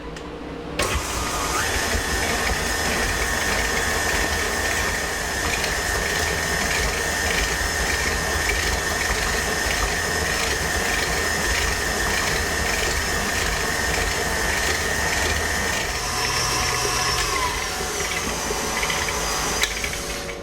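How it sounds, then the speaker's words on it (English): An electric mixer whirs steadily while beating butter, sugar, salt and vanilla in a bowl, a loud constant motorized hum with faint rhythmic rattling, alone for about twenty seconds. "we're just going to mix that for 2 to 4 minutes until it's lighter in colour"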